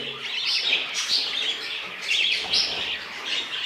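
Budgerigar chicks in a nest box give a continuous high, rapid chorus of chirps and peeps, loud and close, rising in short bursts.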